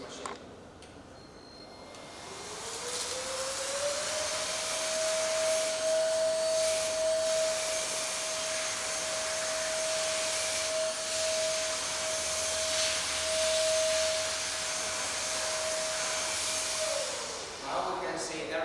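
An INGCO cordless vacuum cleaner spins up to a steady high-pitched whine with airy suction noise, runs evenly for about fifteen seconds close by, then winds down.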